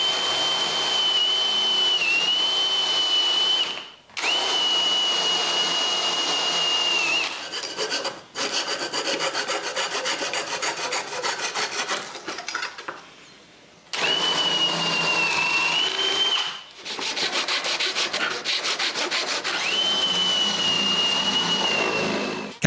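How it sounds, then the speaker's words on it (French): A drill bores alignment holes through a wooden jig template, a loud high motor whine broken by several short pauses, with rough grinding of the bit in wood between runs; no one speaks. "je peux percer les trous d'alignement entre le patron et le reste du gabarit."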